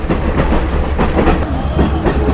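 Rhythmic clickety-clack of a passenger train rolling through hill-country tea gardens between Nuwara Eliya and Ella, heard from inside a first-class carriage as a loud, steady wheel beat over a low rumble.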